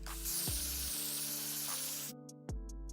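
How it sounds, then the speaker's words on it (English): Spray adhesive hissing from an aerosol can onto a forehead during a glueless wig install, a steady close spray lasting about two seconds before cutting off, with faint handling noises around it. "We're gonna be using a little bit of spray adhesive."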